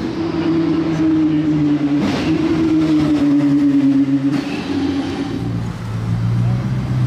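A Bugatti Chiron supercar drives at night during the Monaco Grand Prix. A strong, steady engine drone shifts pitch as it moves past, with crowd and street noise around it and people talking nearby.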